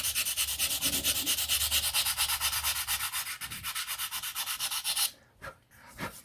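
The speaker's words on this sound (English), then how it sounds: "And then we'll just sand it to the outline that we want." Wood being sanded by hand into shape for a scale-model Blackburn Monoplane seat, steady rhythmic rubbing strokes close up, stopping near the end with a couple of faint knocks.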